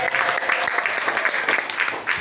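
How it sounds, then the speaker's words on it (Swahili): A church congregation claps together in a steady, close burst of applause while a voice speaks over it. "Simpigie Yesu makofi na kuomba."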